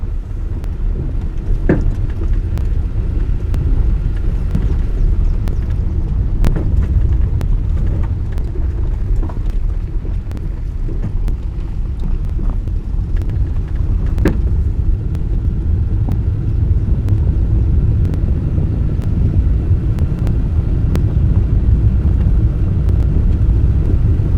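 A car driving up a ranch road toward Mount Isabelle in southern Oregon, with a steady low engine and road rumble, heavy wind buffeting, and occasional small knocks, continuous and close with no talk.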